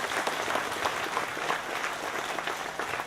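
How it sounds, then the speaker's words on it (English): Audience applause at a workforce center graduation ceremony: steady, even clapping from many hands sustained throughout, moderately loud and unbroken, with no talk over it. "a round of applause for them"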